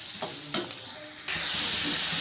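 Onions sautéing in a pan for a Tamil egg curry, a few clinks of stirring followed by a loud, steady, close-up sizzle.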